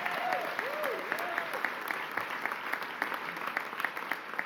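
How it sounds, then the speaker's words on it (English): At a hospital announcement event, a crowd applauds Governor Kathy Hochul, a steady wash of clapping at moderate distance, joined briefly near the start by a gliding whistle. "Give her a round of applause, folks."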